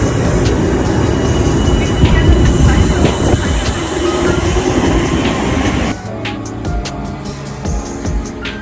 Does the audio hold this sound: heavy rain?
no